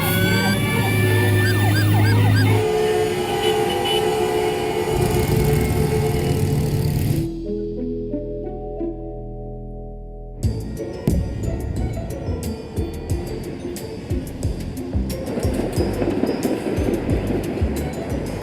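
Busy city street traffic in Toronto with emergency vehicle sirens wailing loudly over the roar of engines, a brief quieter stretch of low rumbling in the middle, then dense traffic noise and honking returning.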